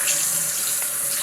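Cold tap water runs steadily from a faucet into a bowl or sink to rinse freshly made homemade butter, a close, continuous hiss and splash with no talking.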